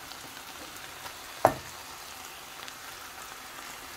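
Minced meat frying in a pan, a soft, steady sizzle and crackle at low volume with one brief sharper pop near the start.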